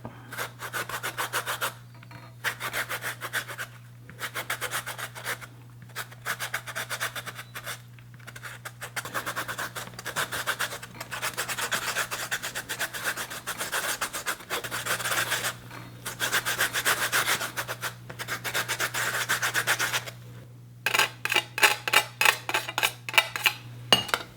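A lemon is zested against a grater in quick, repeated rasping strokes that sound close and fairly faint under a steady low hum, with brief pauses between runs and a faster flurry of strokes at the end.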